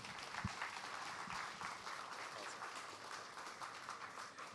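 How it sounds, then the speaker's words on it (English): Audience applause at a career talk event, a sustained even patter of many hands clapping, moderately close and steady throughout with no voices over it. "Let's have a huge round of applause for that."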